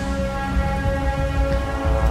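Steady rain pours down in the video game Metal Gear Solid V: Ground Zeroes, a continuous broadband hiss with faint low rumbles underneath and no voices.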